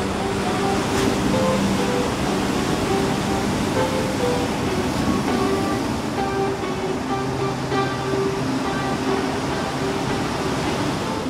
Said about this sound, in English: the waves are nuts